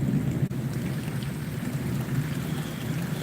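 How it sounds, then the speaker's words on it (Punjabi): Heavy rain pours down steadily and close by during a storm, a dense, unbroken wash with a low rumble beneath that could be thunder, and no voices. "ਹੁਣ ਬਹੁਤ ਜ਼ੋਰ ਜ਼ੋਰ ਕੇ ਡਰਾਵਣੀ ਆਵਾਜ਼ਾਂ ਆ ਰਹੀਆਂ ਆਸਮਾਨ ਤੋਂ"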